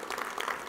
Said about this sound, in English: I think that absolutely deserves an applause